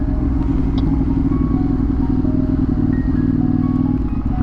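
A motorcycle rides along a countryside track in a Derbyshire valley, its engine a loud, continuous close rumble with slight shifts in pitch as the throttle changes.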